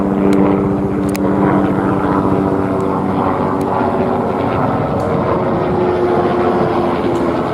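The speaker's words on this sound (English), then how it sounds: "what they've got is this plane up here" A propeller airplane drones steadily overhead, loud and continuous, with a low rumble under its engine tone throughout.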